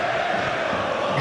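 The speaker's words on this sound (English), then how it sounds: "That's what they're all cheering." Football crowd in a stadium roaring after a goal deflects off the goalkeeper into the net, a loud, dense, continuous wash of cheering that swells slightly toward the end.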